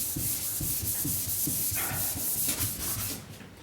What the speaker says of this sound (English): all we're now doing is just removing the coarse scratches that the coarser sandpaper is actually left